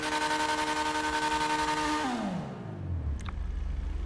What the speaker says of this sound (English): I do think the engine revs are louder on it though, ever since it's upgraded now.